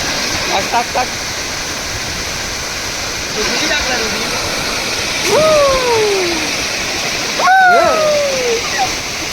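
Boys swim and jump into a village dam in Konkan, with steady rushing, splashing water throughout and a few brief louder splashes. Whistle-like voice sweeps and calls rise over the water.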